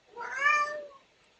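A domestic cat gives a single drawn-out meow, close and clear, rising and then falling away over about a second in an otherwise quiet room.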